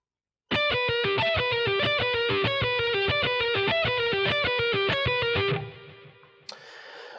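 A distorted electric guitar plays a metal pentatonic lick at a slow tempo, with evenly picked notes in a steady stream for about five seconds, then a held, fading note and a final brief hit.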